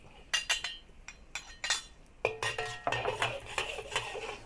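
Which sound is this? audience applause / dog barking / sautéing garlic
sautéing garlic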